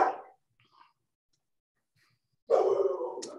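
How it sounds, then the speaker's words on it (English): A dog barks indoors during an online council meeting: a short bark at the start, then a louder, longer bark-like burst after a quiet gap, fairly close and not under talk. "you can hear my dog barking"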